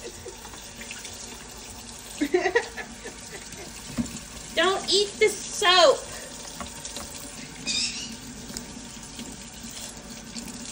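Tap water running into a bathtub at bathtime, heard in short splashy bursts and gurgles across the middle of the clip, with someone speaking over it.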